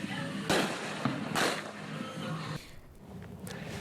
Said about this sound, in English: many across the state are getting ready to pop fireworks